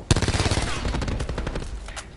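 A jitter-modded shotgun firing in Black Ops 4, letting off a rapid, tightly packed string of close, punchy blasts that come almost like machine-gun fire before tailing off.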